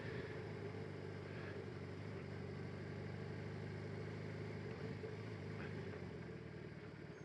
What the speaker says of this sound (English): you could see a definite left and right pulse in the fairing there from that engine just idling